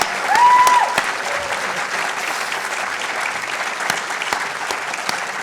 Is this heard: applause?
yes